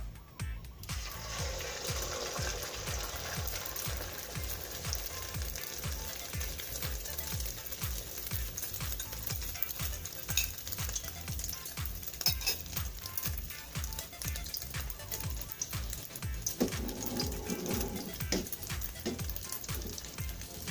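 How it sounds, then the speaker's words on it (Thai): Beaten egg for a Thai omelette frying in a wok gives a steady loud sizzle throughout, with scraping and clinks of a utensil near the end. "เรานำไข่ลงในกระทะเลยนะครับ"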